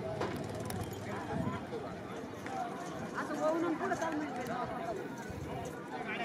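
Bulls pulling racing carts pound past at a bullock cart race in Ambegaon, their hooves a continuous rumbling clatter under a crowd's steady chatter and shouting voices.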